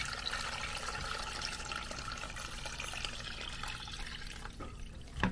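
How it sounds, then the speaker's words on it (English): Filtered water poured over fish carcasses in a pot for stock, a steady close splashing trickle running for several seconds without talk. "So we're going to go ahead and just top this with some filtered water."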